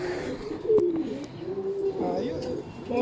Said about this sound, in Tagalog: May bumalik tayong ibon oh.